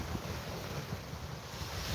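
Wind and surf roll steadily onto a fishing beach as the weather calms, a broad continuous wash of breaking waves with low rumbling swells, close and fairly loud, no voices.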